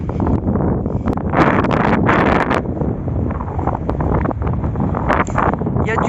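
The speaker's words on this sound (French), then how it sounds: "Il y a du vent, je suis désolée." Strong wind at the Col du Bonhomme mountain pass buffets the microphone in loud, uneven gusts and roaring surges throughout, with brief rustling bursts and no clear speech.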